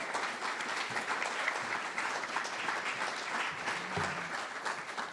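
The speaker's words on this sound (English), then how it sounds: "Please, please give a round of applause for Sue." An audience applauds a speaker named Sue, a steady, moderately distant patter of many hands clapping at once that holds evenly throughout.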